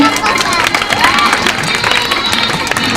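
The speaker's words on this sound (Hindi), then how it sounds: "भाई जोरदार ताली हमारे डॉक्टर साहब के लिए" An audience at a Brahmakumaris anti-addiction stage play in Gaya, Bihar, applauds the doctor character with steady, dense clapping and crowd murmur that fills the whole stretch, with a voice speaking over it.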